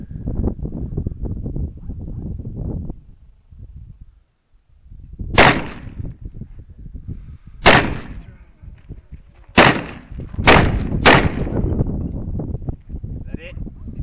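Five sharp, loud gunshots ring out outdoors, spaced a second or two apart, with voices talking before and between them.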